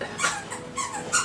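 A dog whimpers indoors in three short, high-pitched whines close to the listener, with no talking.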